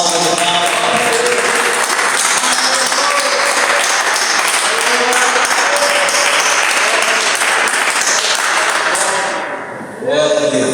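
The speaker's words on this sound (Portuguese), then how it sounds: "Quem pode dar uma salva de palmas?" Church congregation applauding at an evening worship service, a loud sustained burst of clapping from many hands with voices mixed in, fading out near the end before a voice resumes.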